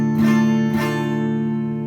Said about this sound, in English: Sometimes people will bar the 6th string